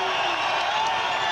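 Arena crowd at a Cage Rage world championship MMA bout between James Zikic and Cyborg Santos, a steady dense roar of cheering and whooping that stays loud and continuous throughout the short moment.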